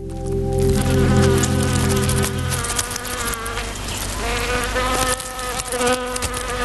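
Honey bees held in a laboratory setup, each connected to a suction tube, give a close, steady buzzing drone with layered humming tones that shift slightly in pitch, continuous and alone.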